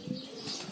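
Pigeons beat their wings as they take off, a brief flurry of soft flapping close by, with a faint coo-like tone underneath.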